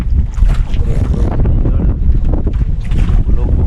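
Strong northeast monsoon wind at sea aboard a small fishing boat: heavy, buffeting wind noise with low rumbling gusts and water sounds, loud and close throughout.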